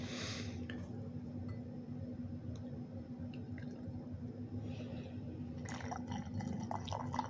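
Pabst Blue Ribbon beer pours at a neighborhood bar in a continuous liquid stream, with some squishy, splashing filling sounds over a steady background hum.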